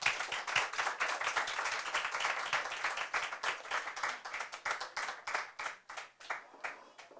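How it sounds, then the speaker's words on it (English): Audience applause after a speaker finishes at a debate and impromptu speaking competition semifinal, a dense sustained clapping from a hall full of people that thins out toward the end. "A round of applause."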